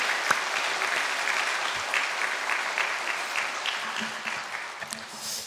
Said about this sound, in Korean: 우리 한번 박수 보내줘도 좋을 것 같습니다